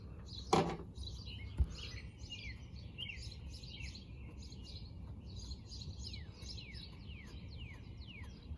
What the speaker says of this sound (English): There's a lot of birds out this morning.